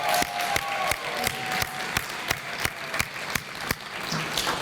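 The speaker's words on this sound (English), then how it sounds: "Let's have another round of applause." Audience applause at an outdoor Juneteenth community celebration, a steady patter of many hands clapping with a few sharper, louder claps punctuating it, moderately distant and sustained throughout.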